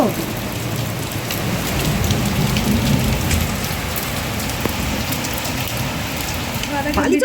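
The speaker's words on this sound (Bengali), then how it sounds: "কি মুসলধারায় বৃষ্টি হচ্ছে আওয়াজটা শোনো" Torrential rain falls steadily during a thunderstorm, a thick, loud wash of drumming drops that continues without pause throughout.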